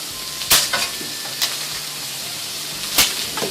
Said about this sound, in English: to go ahead and add my steak. No oil at all.